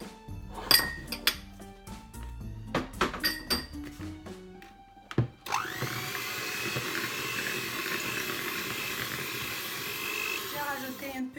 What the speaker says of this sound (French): je vais tout mixer doucement